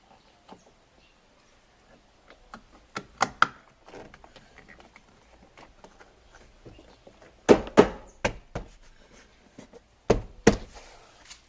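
Car door being opened and its lock tested after tweeter speakers are fitted, giving scattered sharp knocks, clicks and thunks, faint at first and then several louder latch clunks.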